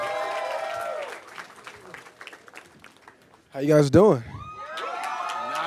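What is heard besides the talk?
enthusiastic crowd cheering and applauding cast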